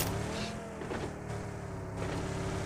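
A vehicle drives in a video game, a low steady engine hum with faint shifts in pitch, moderately quiet and continuous throughout.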